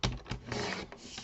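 Paper is cut for a handmade card. Close, continuous rasping and scraping comes in a few quick strokes with short gaps, and nobody speaks.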